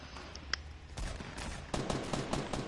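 Rapid bursts of automatic gunfire crackle in a Fortnite match, several distant volleys firing in quick rattling strings, faint and at middle distance.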